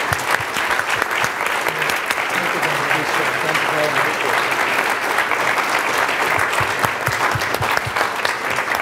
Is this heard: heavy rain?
no